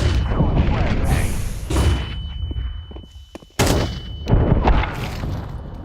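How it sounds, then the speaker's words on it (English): Flashbang and smoke grenade throws and gunfire in a video game produce a rapid series of loud shots and booms, with a sharp blast partway through, under excited player chatter. "Throw in the flashbang. Throw in the smoke."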